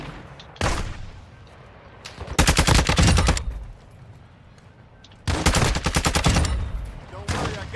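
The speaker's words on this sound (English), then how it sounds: "You are taking effective fire." Automatic gunfire in the Call of Duty DMZ video game, with long loud bursts of rapid shots separated by quieter gaps and a few single shots, close and dominant.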